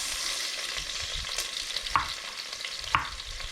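Chopped beef fries in hot oil and beef fat with a steady broadband sizzle, broken by two sharp clicks of a utensil against the pan.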